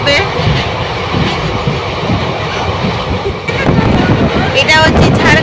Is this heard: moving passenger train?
yes